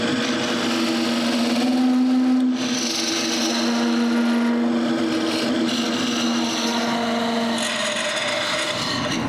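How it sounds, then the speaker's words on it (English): A wood lathe spins a turned tool handle while finish is rubbed onto it, giving a loud, steady whir with a constant hum and continuous rubbing friction throughout. "I switch the lathe on and rub on the finish."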